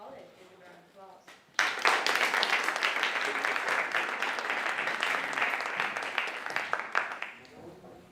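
An audience bursts into loud, sustained applause for a student speaker at the COBIS Student Leadership Weekend at the British School of Bucharest. The clapping starts abruptly after a brief spoken introduction, holds steady for several seconds, then fades as a voice returns.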